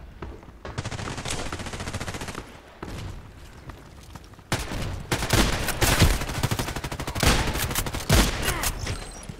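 Shotgun blasts from an MP133 in Contract Wars, dense bursts of loud, close gunfire with several sharp individual shots standing out among overlapping battle noise.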